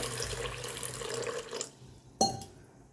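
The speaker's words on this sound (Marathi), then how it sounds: "एकदा पाण्यानं स्वच्छ धुवून घेऊया" Sago pearls rinsed in a bowl of water, a steady watery swish that runs for over a second and a half, then a brief quiet before a sharp splash or clink near the end.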